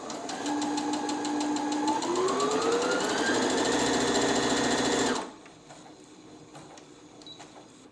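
A Brother NV10 sewing machine started with its start-stop button stitches in a fast, even mechanical whir that rises slightly in pitch, then cuts off abruptly, leaving a faint quiet hum.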